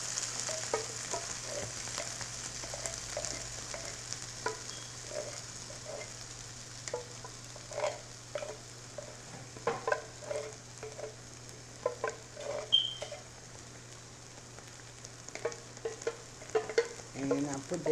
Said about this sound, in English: I'm going to cook my tomato paste first